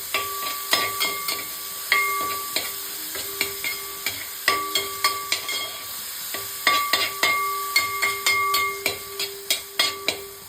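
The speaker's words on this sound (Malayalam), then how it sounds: "അപ്പോൾ ഇതെല്ലാം ഇട്ട ശേഷം ഒന്നും കൂടെ ഒന്ന് മിക്സ് ചെയ്യുകയാണ്." A spoon stirs a tomato and garlic paste mixture in a pan, making repeated rhythmic scraping strokes over a soft sizzle.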